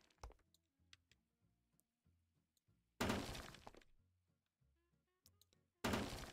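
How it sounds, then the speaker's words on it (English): Ceiling being smashed apart in Hotel Renovator, two loud crashing bursts of breaking debris separated by quieter thuds and light knocking, close and prominent. "I don't know if I'm supposed to be smashing the ceiling off, but we're doing it."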